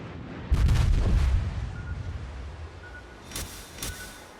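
Warship guns firing in World of Warships, a deep booming salvo followed by a rumbling tail and two further sharper, distant shots.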